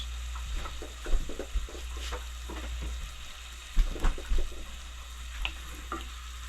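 Butter melting and sizzling with Red Russian kale in a pan, a soft steady fry with a few brief scrapes and clinks of stirring, fairly quiet throughout, with no talk.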